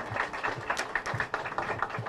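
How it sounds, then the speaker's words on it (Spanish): An audience at a hospital visit in Madre de Dios, Peru, claps for President Pedro Castillo, a fairly quiet, scattered patter of individual hand claps with uneven rhythm, somewhat distant and unaccompanied by speech. "Fuerte aplauso para él."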